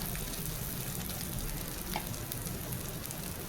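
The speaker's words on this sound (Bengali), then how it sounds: "পেঁয়াজগুলো আমার ভাজা হয়ে আসছে, হয়ে গেছে।" Onions frying in a pan give a continuous dense sizzle throughout, steady and even with no talking, sounding like a constant hiss close by.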